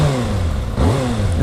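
A 2019 Kawasaki Ninja ZX6R on its stock exhaust revs at low engine speeds, its deep steady drone dipping briefly and then rising again, loud and close, with no speech over it.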